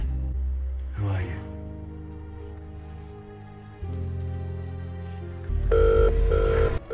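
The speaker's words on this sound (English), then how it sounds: "Is that an alarm? It's a phone." A telephone rings in a drama scene, its repeated electronic trill starting loud near the end after a stretch of music and low background, with a brief gasp-like vocal sound earlier.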